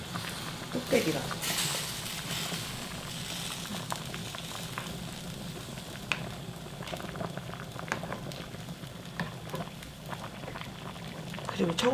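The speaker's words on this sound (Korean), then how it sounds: "청국장 넣고는 이렇게 많이 오래 끓이면 안 돼." Cheonggukjang stew with tofu bubbles in an earthenware ttukbaegi pot, a close, steady burble and pop of boiling liquid with soft sizzling, while people talk intermittently over it.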